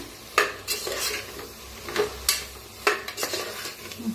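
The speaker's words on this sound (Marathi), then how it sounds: "1 चमचा लाल तिखट, सब्जी मसाला 1 चमचा, धना पावडर 1 चमचा. छान मिक्स करूया." A spoon stirring red chili powder, sabzi masala and coriander powder in a pan, with sharp metallic scrapes and clinks against the pan at an irregular rhythm over a light sizzle, close and fairly loud, no voices.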